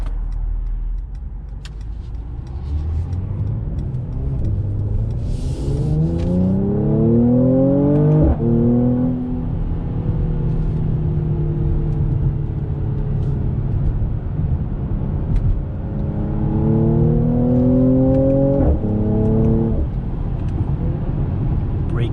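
A 2021 Mercedes-Benz C43 AMG on the move, its engine rising through two strong revving pulls with gear-shift breaks between them, loud and steady from inside the cabin over constant road noise.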